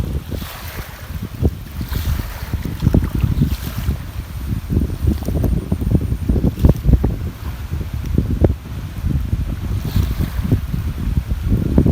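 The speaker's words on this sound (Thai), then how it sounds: "ไม่รู้จะได้ยินเสียงลมหรือได้ยินเสียงผมนะ อันไม่รู้อันไหนจะแรงกว่ากัน" Strong wind gusting across a flooded work site as fast-rising floodwater and a cold snap arrive, a steady loud roaring rush with buffeting low-end gusts on the microphone throughout, no voices heard.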